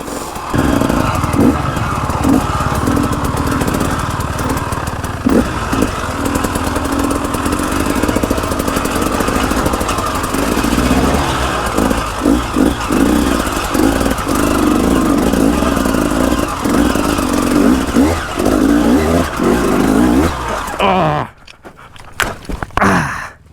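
A dirt bike grinds and bounces over a rocky hill-climb track near old mine workings, its engine loud and close, revving in uneven bursts with clattering impacts before it cuts out abruptly near the end.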